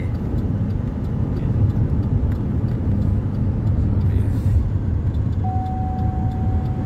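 Car coasting in neutral down a valley road near Madinah, a steady low rumble of tyres and wind noise with a faint thin tone near the end, no talking.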